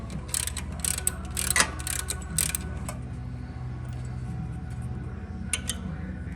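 A 5/16 Allen key works a passenger peg bolt loose on a Harley bagger, giving close metallic ratcheting clicks and tool scrapes over a steady low workshop hum.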